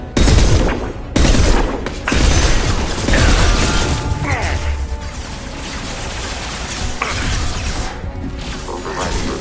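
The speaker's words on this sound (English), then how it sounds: "Taking heavy fire!" Gunfire and turret fire in the Mass Effect video game, loud bursts of shots and mechanical clatter up front, easing into steadier mid-level combat noise with faint tonal effects.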